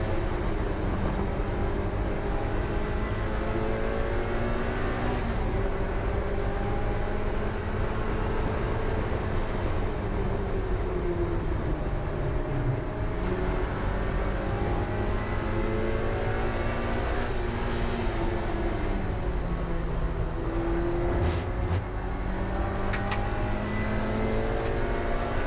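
A race car engine drones loud and steady on the Brands Hatch GP circuit during a trackday trophy race, its pitch rising and falling through gear changes, with no talk over it.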